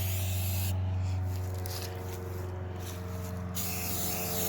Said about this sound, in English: Make sure you when you spray paint, just go up and down.